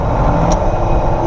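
A Zetor tractor running on LPG holds a loud, steady engine drone close by, revving on the throttle without a break and with no voices over it.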